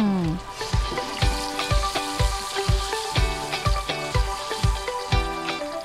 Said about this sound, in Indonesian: Setelah itu, goreng!